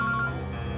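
A phone gives off a short, steady electronic tone, loud and close, lasting under a second.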